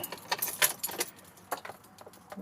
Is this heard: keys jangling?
yes